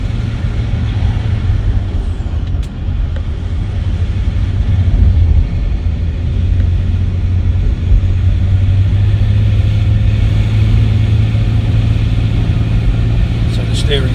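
A Tonga Green Range Rover L322 driving along a road after brake repairs, a steady low engine and road rumble from inside the cabin with a constant drone and little variation, under occasional talk.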